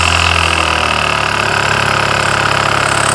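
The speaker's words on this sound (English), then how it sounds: "we can hear the pump working" Air pump running while it pressurizes the air suspension of a Bentley with a collapsed ride height: a steady, loud mechanical hum and buzz, continuous for the whole stretch with no voices over it.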